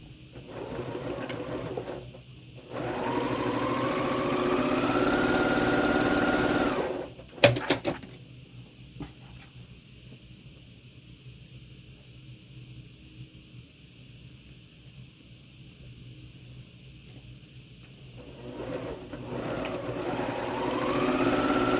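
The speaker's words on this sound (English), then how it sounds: "Just sew them all at once." A sewing machine chain-piecing quilt blocks runs in long continuous bursts with a steady whirring hum, stopping and restarting between runs, with a quiet pause in the middle.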